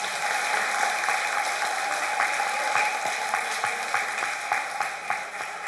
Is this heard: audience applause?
yes